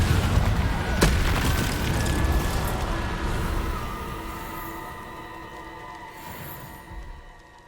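A Confringo blasting spell explodes in Hogwarts Legacy with a loud, close boom at the start, followed by a long rumbling tail that slowly fades away with no talk over it.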